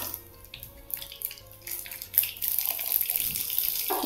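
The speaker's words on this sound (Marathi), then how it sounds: "चांगली तडतडली बघा जिरी मोहरी" Cumin and mustard seeds crackle in hot oil in a kitchen pan, a soft sizzle with scattered sharp pops that grows denser toward the end.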